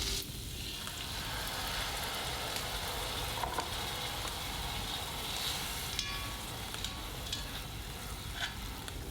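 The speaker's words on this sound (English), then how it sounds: "Fry the meat for 10 minutes over low heat." Meat frying in a pan with sauce and garlic over low heat, a steady soft sizzle with faint stirring clicks, continuous and fairly quiet with no voices.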